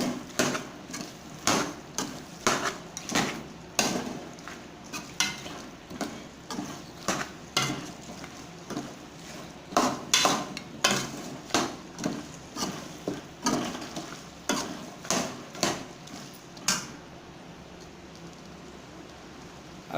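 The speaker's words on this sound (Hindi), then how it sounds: "ये छोले और गोश्त भी इकट्ठे अभी इसके अंदर भूनेंगे" Chickpeas and mutton being stir-fried together in a pot, with a spoon repeatedly knocking and scraping against the metal in an irregular rhythm of sharp clacks over a low sizzling hiss, close and fairly loud.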